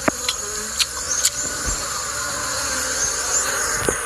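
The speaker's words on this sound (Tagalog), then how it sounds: "kung paano niya kinuha ang mga bubuyog sa puno ng nyug" Bees buzz steadily around a coconut tree, a continuous close droning hum with a few faint clicks and taps mixed in.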